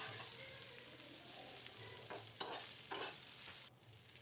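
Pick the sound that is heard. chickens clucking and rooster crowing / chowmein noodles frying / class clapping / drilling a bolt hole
chowmein noodles frying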